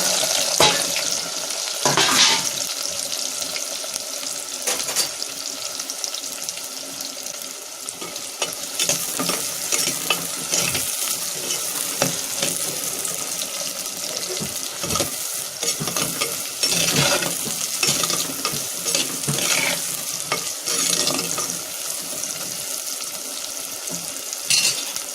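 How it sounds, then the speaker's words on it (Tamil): Garlic and onion fry in oil in a clay pot with a dense, continuous sizzle, punctuated by the scrape and clatter of stirring, close and steady for the whole stretch. "பூண்டு நல்லா வதங்கிடுத்து வெங்காயம்"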